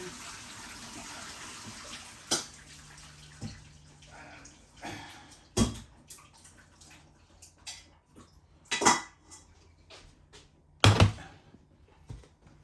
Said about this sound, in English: I'm going to quickly rinse off the pasta, or drain the pasta rather